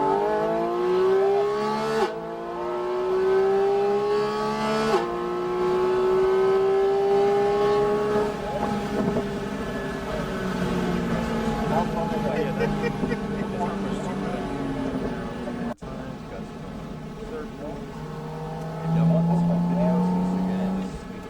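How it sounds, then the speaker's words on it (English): A car driven flat out on a race track at a supercar driving experience, its engine rising in pitch through long gear pulls with brief shift breaks, loud and close throughout, an occupant's voice occasionally underneath. "This is the first chance I had to actually floor the car. I'll let y'all hear this."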